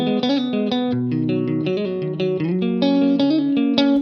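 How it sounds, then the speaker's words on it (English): Electric guitar playing the chord progression, a continuous run of bright, quickly changing notes through an effects unit with light drive, played alone and close. "So the whole first time through this chord progression will sound like this."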